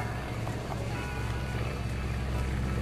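Steady droning engine of a WACO biplane at a flight show, a continuous low rumble with wind-like noise throughout and faint voices underneath.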